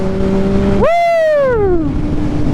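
Suzuki GSX-R 750 motorcycle engine on a canyon ride, loud close idle-like drone that jumps sharply into a rising rev, then winds down as the engine note falls back.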